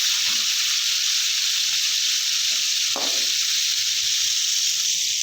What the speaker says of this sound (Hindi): थोड़ा सा फ्राई होने के बाद हम इसको मीडियम टू लो फ्लेम पे फ्राई करेंगे ताकि ये जले ना।